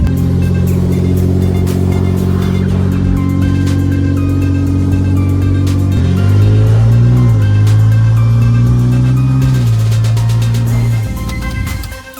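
A car with a Honda J35 V6 engine hums steadily from inside the cabin, its tone rising and shifting as it accelerates, loud and continuous with no talking, then easing off at the end.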